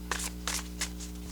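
Playing cards being shuffled in a few quick riffling bursts, faint and close, with a steady low hum underneath.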